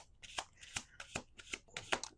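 Playing cards are riffled and shuffled in a rapid series of crisp, close fluttering bursts, about a half-dozen in quick rhythm, with no talking.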